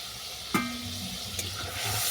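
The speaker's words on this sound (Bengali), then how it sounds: "এটা আমি ভালো করে কষে নেব" A spice paste with turmeric, salt and sugar fries in oil with a steady broad sizzle, broken by a sharp scrape of a spoon stirring it and a fainter second scrape, close by with no voices.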